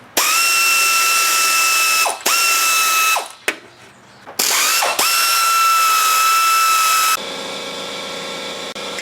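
Ratchet wrench buzzing in fast, loud clicking bursts while removing the hood latch bolts on a 2000 Chrysler 300M, several runs separated by brief pauses and a quieter stretch at the end.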